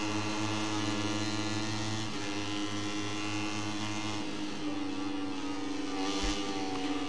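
MotoGP racing motorcycles at the Austria circuit accelerate hard, with droning, rising engine tones and steady revving that shifts in pitch as the bikes gain speed.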